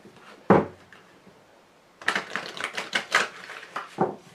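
A tarot card deck is handled: one soft thump, a pause, then a quick run of crisp clicking riffles as the cards are shuffled and cut, close and fairly quiet.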